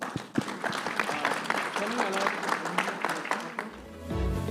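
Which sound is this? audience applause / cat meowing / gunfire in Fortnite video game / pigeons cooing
audience applause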